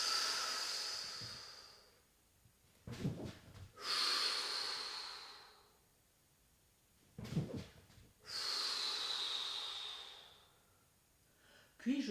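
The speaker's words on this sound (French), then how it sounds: "nous allons inspirer en descendant et souffler en montant" Breathing exercise for singing practice: three long, loud, airy exhales, each a sustained hissing breath lasting a couple of seconds, separated by short sharp inhales through the nose, close and alone in a quiet room.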